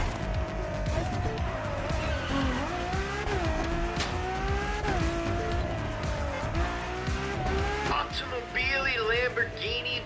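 A Ferrari and a Lamborghini race in the video game The Crew Motorfest: loud engines rev and climb through gear changes with rising and falling pitch, and tires squeal sharply near the end.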